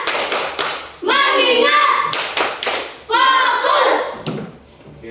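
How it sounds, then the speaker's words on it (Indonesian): Children doing a rhythmic concentration clapping game in an Indonesian classroom, with bursts of sharp group claps alternating with loud chanted voices, close and lively. "Tepuk konsentrasi."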